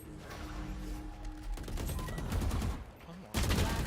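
Rapid gunfire in a competitive shooter video game, bursts of loud shots rattling close by, a brief lull, then a heavier blast of fire, with a player talking over it.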